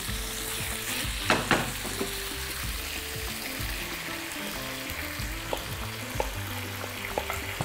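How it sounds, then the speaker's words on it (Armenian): Vegetables for a chicken breast sauce sizzle steadily in a hot pan while being carefully turned, with scattered clicks and scrapes of the utensil over a continuous crackle. "զգուշորեն տակն ու վրա անենք, վերադարձնենք բանջարեղենը,"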